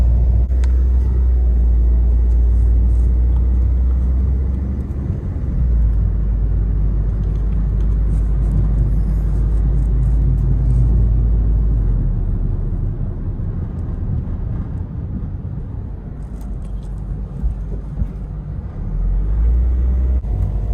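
A car drives through a neighborhood, with a steady low interior rumble of engine and road noise that holds throughout and dips slightly midway.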